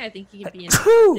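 A single sharp sneeze bursts out from a chess commentator during a live online league broadcast, coming right after a short stretch of his talking and followed by a voiced trailing sound.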